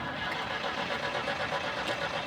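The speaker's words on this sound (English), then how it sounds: "what you're hearing is just the engine just struggling to get petrol through to the" A classic Citroen DS engine cranking and labouring as it struggles to draw petrol through to its carburettors, a steady, rough, close mechanical churn that continues without a clean catch or idle.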